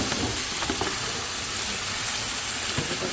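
Garlic, ginger and vegetables sizzle steadily in a hot pan, a dense, close crackling hiss with occasional stirring scrapes and no talk.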